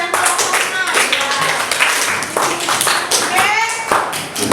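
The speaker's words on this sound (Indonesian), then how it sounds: "Tepuk tangan dong buat Keisha dan Rohana." Children clap in a classroom, a steady run of crisp hand claps for nearly five seconds with young voices chattering and calling out over them.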